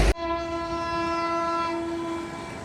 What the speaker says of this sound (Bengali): বিশাল বিলম্বে ঢাকা প্রবেশ করছে আন্তনগর জাহানাবাদ এক্সপ্রেস